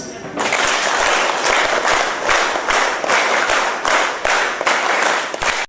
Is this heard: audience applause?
yes